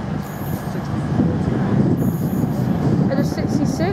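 Freight locomotives, a class 92 electric and a class 66 diesel, haul an intermodal container train past at Stafford, a steady loud rumble of wheels and engine noise throughout with faint high brake or wheel squeals.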